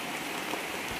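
Light rain falls outdoors in a rural upriver area, making a steady, even hiss of drops on surfaces throughout, with no voices.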